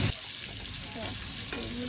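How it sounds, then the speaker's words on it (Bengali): Four pieces of chicken fry in hot butter, giving a steady broadband sizzle throughout with a soft clatter at the start, under a woman's speech. "বাটারটাকে গরম করে নিয়ে তার মধ্যে 4 পিস চিকেন দিয়ে দিচ্ছিলাম ফ্রাই করবো বলে"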